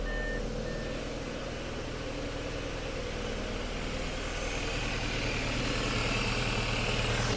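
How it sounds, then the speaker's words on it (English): A rough-running Audi S4 parts car engine idles steadily, a continuous low rumble with an uneven, slightly off character and no breaks, close and moderately loud throughout. "She definitely sounds a little odd. Definitely not the healthiest motor, but it does run and doesn't even seem to misfire."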